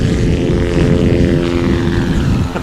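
A STOL propeller airplane takes off at a STOL competition in Pinedale, Wyoming, its engine giving a loud, steady, close droning roar with a low throb that eases slightly at the end.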